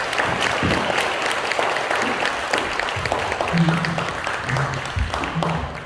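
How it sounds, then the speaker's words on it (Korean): Congregation applauding again in a church service, a steady full wash of clapping from a seated crowd, with a few low voice murmurs surfacing in the latter half. "다시 한번 박수 한번 해주세요."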